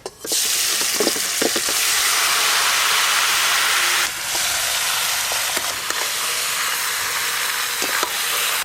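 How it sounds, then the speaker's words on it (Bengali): Spiced marinated chicken dropped into hot oil already tempered with whole garam masala, dried red chillies and bay leaves, giving a loud, steady sizzle that runs throughout, with a few brief clatters from stirring and no talking. "ফোড়ন হয়ে গেলে এবার মশলা মাখানো চিকেন দিয়ে দেব।"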